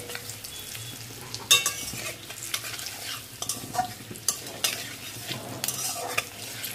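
Chili, cumin and coriander powder fry in a pan for a mustard-poppy bata fish curry, sizzling steadily while a spoon stirs and scrapes in repeated bursts, close and alone with no voices.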